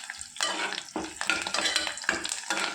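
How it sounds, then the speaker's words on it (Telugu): A tempering of black pepper, green chili, cumin and curry leaves crackles and sizzles in hot oil, broken by rhythmic scraping stir strokes of a spoon in the pan, close and clear with no talk. "తర్వాత మిరియాలు, రుచికి తగ్గట్టు పచ్చిమిర్చి, జీలకర్ర, కరివేపాకు వేసి తాలింపుని దోరగా వేయించుకోవాలి."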